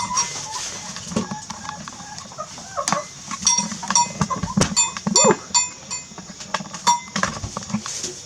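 Goats and chickens are let into a freshly cleaned barn on a small farm, with busy bleats, clucks and rustling close by, a few clattering bumps, and a person speaking now and then.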